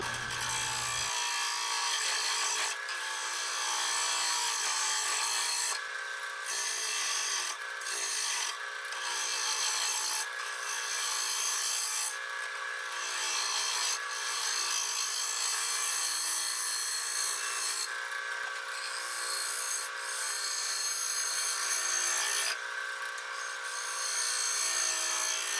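Steady rasping, scraping hiss of a tool cutting an off-balance red oak crotch bowl spinning on a lathe, loud and continuous with brief dips and surges as the cut changes.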